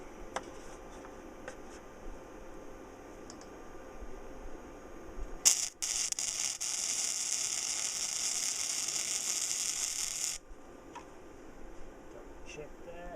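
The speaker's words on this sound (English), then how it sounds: "So I've got it roughly tacked, then I can weld." Arc welding on metal parts for a wind turbine build: a steady, bright crackling sizzle lasting about five seconds, starting with a sharp strike and cutting off abruptly, with quiet background before and after.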